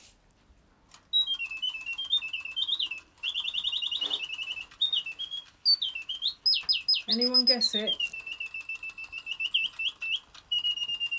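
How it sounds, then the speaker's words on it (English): A mechanical singing bird automaton hidden inside a heavy silver box whistles a warbling, chirping song in quick trills and swoops, loud and close, after a brief spoken question at the start. "A little singing bird."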